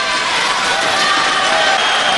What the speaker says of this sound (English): We haven't heard the crowd like this the whole day.